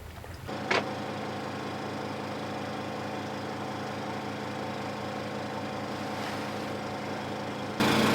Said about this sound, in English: You can hear our water maker going there as we are anchored up in the very pretty Misool.